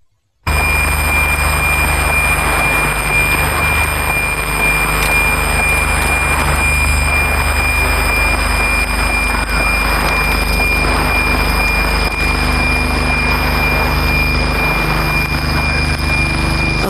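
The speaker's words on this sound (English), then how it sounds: "there's also a lot of good VLF sounds in this" A field recording of very-low-frequency electromagnetic radiation gives a loud, unbroken electrical drone. Steady high whining tones sit over a dense crackling hiss and hum that runs without pause from start to finish.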